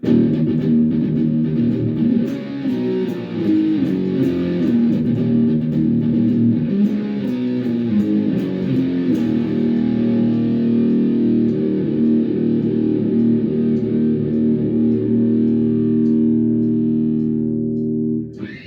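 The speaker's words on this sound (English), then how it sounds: "So I hope you spotted the polyrhythm there." A distorted, effects-heavy instrument plays a polyrhythm at 105 BPM, with layered pulsing notes and a steady chordal drone that rings on at a fairly loud level before cutting off at the end.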